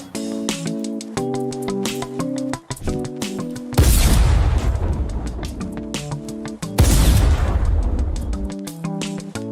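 Tactical shotgun from a video game firing twice, each blast a heavy, loud, broadband boom that rings out for a few seconds, set between passages of tonal game music.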